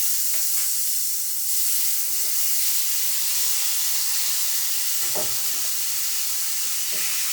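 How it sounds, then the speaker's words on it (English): Vegetables sautéing in a hot pan just used for salmon, a steady broadband sizzle and hiss with a few soft stirring knocks, continuous and fairly close with no talking. "And I'm going to saute these vegetables off"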